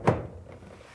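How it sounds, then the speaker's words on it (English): A Samsung dryer door, fitted during a door switch replacement, is set onto its hinge with one dull thunk near the start, followed by a quiet, fading rumble. "set the door in place."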